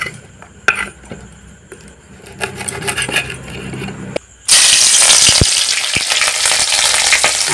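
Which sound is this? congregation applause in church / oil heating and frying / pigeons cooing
oil heating and frying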